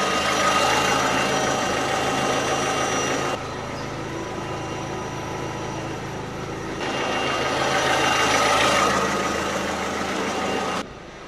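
A car engine idles steadily nearby, its low rumble shifting slightly in level a couple of times with no voices present.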